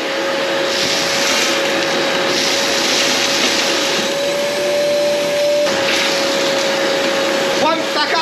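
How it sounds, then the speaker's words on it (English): A Kärcher shop vac runs steadily and loudly throughout, a constant whining motor roar with a steady tone, briefly dipping and surging near the end as it sucks up debris. "the other day I brought one of these bloody Karcher shop vac things"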